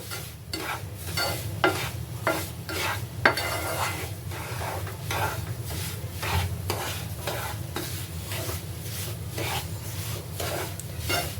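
Besan mixture for amrut pak barfi stirred and roasted continuously in a pan, a steady low sizzling hum under a quick, even run of soft scraping strokes, close and unbroken, with no voices.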